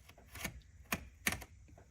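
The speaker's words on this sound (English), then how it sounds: "use a razor blade like this, utility knife, and we're gonna cut into the hoses themselves" Utility knife scoring into a rubber transmission cooler hose on a 2009-2014 Ford F-150, a few close, sharp cutting clicks and scrapes in quick succession, quiet and alone.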